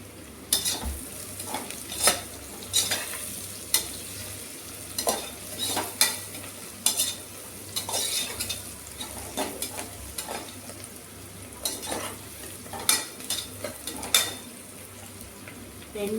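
Onions frying and being stirred in a pan while cooking with coconut milk and rice: steady sizzle throughout with repeated scraping stirs and occasional clinks of a utensil against the pan, close and moderately loud.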